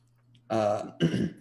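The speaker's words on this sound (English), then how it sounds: "I keep on clearing my throat." A person clears their throat twice in quick succession, two short rough rasps close to the listener.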